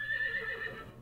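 A horse whinnies in a horse video game, one short, high, wavering neigh heard up close and alone.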